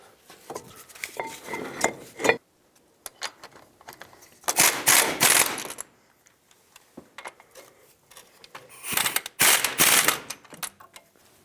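Front brake caliper bolts on a 2003-2009 Toyota 4Runner are driven in by a power tool, heard as rapid rattling bursts: a long one, then two louder runs with quiet gaps between.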